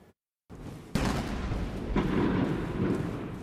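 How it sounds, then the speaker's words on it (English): Cannons fire in salute during a military parade in Tiananmen Square, Beijing, a sharp heavy boom followed by a rolling, reverberant rumble that lingers across the open square. "With the sound of cannons firing across Tiananmen Square"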